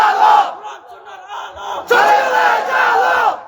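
A large crowd at an outdoor Islamic sermon gathering in Cumilla chants a slogan in unison, two loud rhythmic choral shouts of several syllables each, separated by a short dip.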